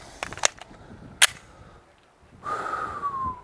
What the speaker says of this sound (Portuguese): Vou fazer mais 5 tiros e tentar nesses 5 colocar os 5 disparos aqui no centro desse alvo